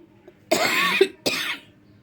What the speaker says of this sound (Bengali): এবার সবার কাশি ঠান্ডা কাশি কোনো ভালো হয় না